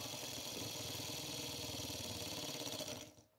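Small Chinese model Stirling engine running at high speed, a steady, fast, whirring mechanical hum with rapid regular pulses, close and fairly quiet, stopping abruptly near the end.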